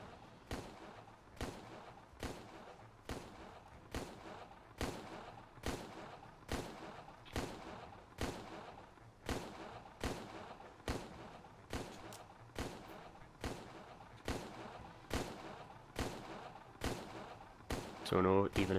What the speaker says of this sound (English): He's being shot at.